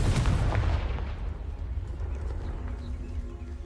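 A Confringo fire-blast spell cast in Hogwarts Legacy lands as a loud booming burst right at the start, its low rumble decaying over a few seconds into a quieter, hissing tail with no voices.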